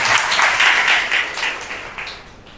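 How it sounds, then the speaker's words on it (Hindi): A church congregation claps together in thanks during a Hindi-language sermon, a loud continuous burst of applause that gradually thins and fades. "ताली बजा के प्रभु को धन्यवाद करें।"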